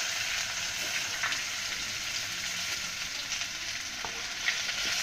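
Garlic, ginger and coriander frying in oil with roasted masala: a steady, close sizzle with faint crackles and stirring scrapes throughout.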